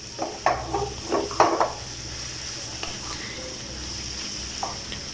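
Prawn chow mein noodle mixture stirred in a hot pan, a few quick scraping clatters of spatula against metal early on over a steady low sizzle, then quieter frying hiss with occasional light clicks.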